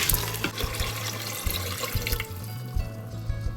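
Water poured from a tap into a pot of rice, lentils and spices, a close, splashy gush with bubbling pulses that is strongest at the start and gradually thins out.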